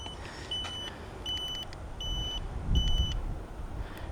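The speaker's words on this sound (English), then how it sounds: "We've got turn signals integrated here for the right, here for the left" Turn signal on a NIU KQi 100F electric scooter, a repeating high electronic beep in an even rhythm of about four pulses, clear and close over a low background rumble.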